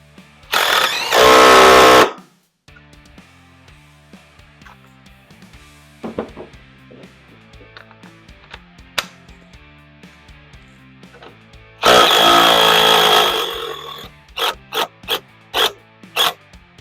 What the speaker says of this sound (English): let's snug it tight and see if the Dewalt can bust it loose